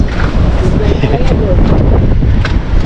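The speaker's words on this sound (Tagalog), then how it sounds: "Lakas ang hangin ano?" Strong wind buffets a microphone at sea during a fishing trip aboard a boat, a steady loud roar with gusts that never lets up, while voices talk over it.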